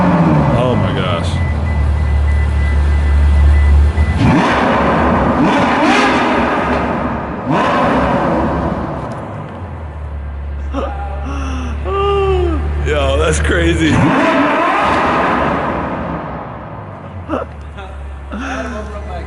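A Ferrari F12 Berlinetta engine with an opened exhaust, louder than stock, revving loudly in bursts, roaring up and falling back, with people talking and exclaiming over it close by.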